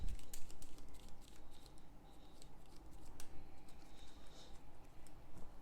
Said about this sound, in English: shuffle the Expedition Encounter deck in the Mystic Ruins Encounter deck.